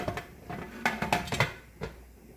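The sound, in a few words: lid being put on a canning pot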